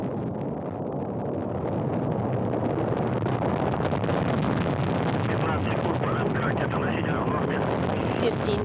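Crewed rocket lifting off toward the International Space Station with a Russian and NASA crew aboard, a steady broadband roar that rises and holds loud throughout, with faint announcer talk underneath.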